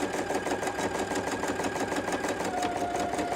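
A PFAFF Créative Expect 350 embroidery machine stitching an outline, its needle hammering in a fast, even mechanical rhythm that stays close and constant throughout.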